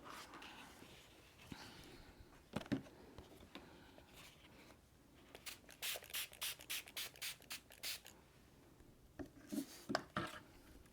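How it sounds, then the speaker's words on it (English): Quiet pumping bursts from a spray bottle misting water onto a watercolor painting come in a rapid rhythmic series, with scattered soft brush taps and rubbing around them, close up and with no talking. "spray into some of this up here"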